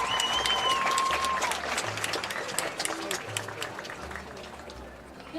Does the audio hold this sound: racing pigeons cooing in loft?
no